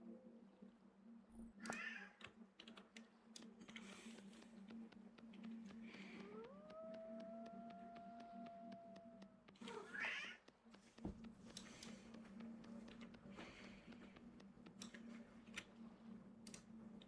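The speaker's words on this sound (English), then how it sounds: "my cat losing its freaking mind right now" A pet cat meows loudly, letting out one long, drawn-out wavering cry in the middle, set over a steady low hum and faint clicking background sounds.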